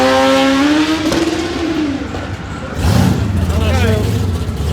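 A Lexus IS300 drag race car revs hard and loud up through the gears, each rising whine dropping at a shift, with a second deep engine roaring in near the end and a voice talking under it.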